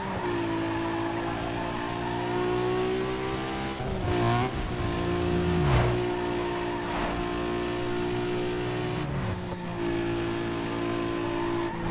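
Race car engine in Need for Speed Underground 2, droning steadily at high revs with gear-shift dips and tire squeal around the middle and near the end, continuous and close throughout.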